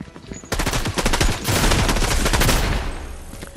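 Rapid automatic gunfire from a gun in the Fortnite video game, a dense burst that starts abruptly and hammers steadily for about three seconds before easing off, loud and close.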